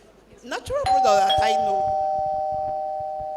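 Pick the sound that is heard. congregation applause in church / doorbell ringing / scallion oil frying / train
doorbell ringing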